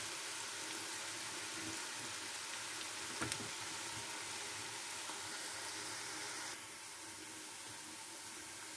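Onions frying in plenty of oil for a kaski fish dish make a steady, close sizzle that holds evenly, with one brief sharper crackle midway before the hiss dips slightly and continues without talk.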